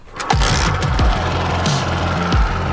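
A motorbike engine runs steadily with a balloon fixed over its silencer, the exhaust note rising and falling in loud throttle blips and revs, close and continuous.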